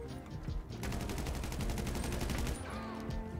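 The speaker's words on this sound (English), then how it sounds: "I'm legit just shooting through the wall." Rapid automatic gunfire in GTA V fired through a wall, a dense sustained burst of shots following a few scattered single shots, loud and close.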